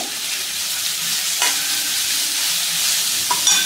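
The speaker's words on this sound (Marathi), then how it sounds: "त्यानंतर त्याच्यामध्ये 1 चमचा आलं लसूण हिरवी मिरची याची पेस्ट टाकून घ्यायची, मिक्स करायचं" Ginger, garlic and green chilli paste is stirred into onions frying in a pan, giving a continuous bright sizzle. A sharp scrape of the spoon is heard partway through and a few light knocks come near the end, with no voices.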